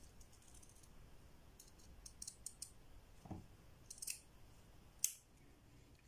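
Scissors cutting through folded, pinned dupatta fabric into a round shape, giving a series of faint, close snips and blade clicks spread unevenly over several seconds, with one sharper snip near the end and no talking.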